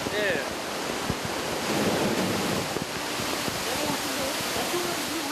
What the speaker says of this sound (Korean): 큰 파도가 한 번 치기 위해서는 400톤의 물이 필요하기 때문에 이곳에서 물을 모았다가 한 번에 배출시켜 파도를 만들어낸다고 합니다